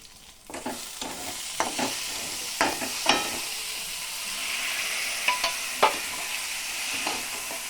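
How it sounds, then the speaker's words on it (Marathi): Drained pasta tipped into a prepared mixture in a pan is stirred over a soft continuous sizzle, with a string of sharp spoon scrapes and knocks at irregular intervals and no talking. "आता हा पास्ता आपण तयार केलेल्या मिश्रणामध्ये टाकूयात."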